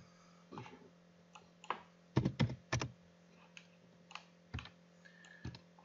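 A computer mouse and keyboard click at a desk during CorelDraw work, scattered sharp taps with a quick cluster of clicks in the middle, close and fairly quiet with no talking.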